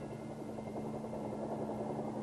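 Huge Chinook helicopter flying with artillery field pieces slung beneath, a steady close rotor drone with a constant low engine hum throughout.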